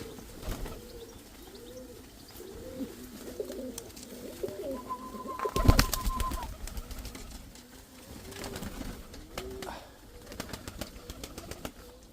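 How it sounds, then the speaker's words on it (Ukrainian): Pigeons in a Ukrainian backyard loft coo in steady repeated rolling phrases at close range, with a brief burst of wing flapping and a faint whistle-like call midway, no talk. "Це практично всі голубини, так то в мене їх і багато."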